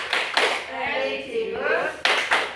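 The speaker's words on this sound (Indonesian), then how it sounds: "Tepuk PPK." A group performing the PPK clap routine: sharp bursts of rhythmic clapping at the start and end, with a group voice chanting in between.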